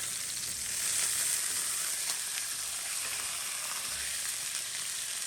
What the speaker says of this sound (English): Now I'm going into a very hot iron skillet that has a little bit of oil, and we're going to sear it.